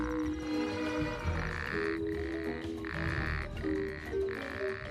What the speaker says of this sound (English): His extending throat pouch amplifies his call